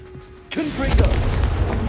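The Confringo fire blast spell from the video game Hogwarts Legacy: a sudden heavy boom that cuts in after a quiet moment, then a loud rumbling, crackling roar that holds to the end.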